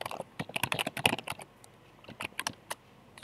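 Fast, uneven typing on a computer keyboard while entering login details, crisp close key clicks in irregular bursts with short pauses between them.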